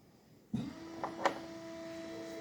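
A small electric trolling motor fitted to a Bonafide SS127 fishing kayak starts up with a clunk, then settles into a steady, faint whine with a thin tonal hum that runs on evenly.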